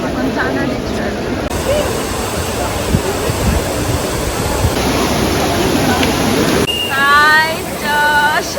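Water of the Trevi Fountain in Rome splashes in a steady, loud wash of rushing noise, with crowd chatter and a voice speaking over it.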